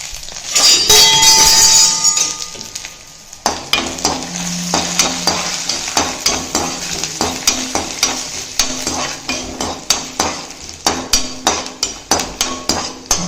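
Chopped onion frying in a pan while being stirred, with sizzling and repeated scraping, clinking stirs of a spoon against the pan, loud and close, with a brighter burst of sizzle at the start.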